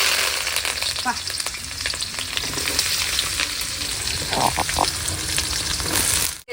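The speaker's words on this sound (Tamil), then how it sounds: "வெந்தயம்லாம் நல்லா பொட்டிச்சு இப்போ வெங்காயம் கருவேப்பிலை" Fenugreek, onions and curry leaves frying in hot oil for sambar, a loud, dense, continuous sizzle up close with stirring scrapes and a clink near the end before it cuts off.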